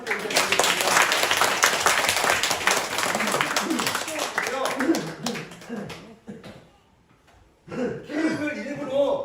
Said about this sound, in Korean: 우리 감사의 박수 함께 올려드리겠습니다.